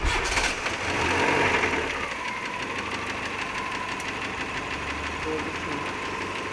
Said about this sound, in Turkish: Aracımızı şimdi tekrar bir çalıştırıyoruz.